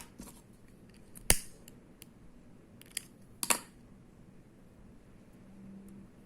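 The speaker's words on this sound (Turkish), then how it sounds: "Burada ipimi kesiyorum." Scissors snip crochet thread twice, sharp close clicks with a small tap between, on a project of a crocheted flower over a leaf, in an otherwise quiet room.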